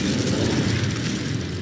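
A fiery Incendio spell blasts in the Hogwarts Legacy video game, a loud, sustained whooshing roar of flame lasting under two seconds with no talk.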